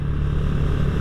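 A Honda Astrea Grand motorcycle fitted with a Bobokan bass exhaust rumbles steadily in a deep, smooth, continuous low tone, loud and close.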